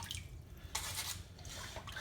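Wicked Edge sharpening stones dipped in water, producing soft faint splashing and dripping in a few quiet bursts.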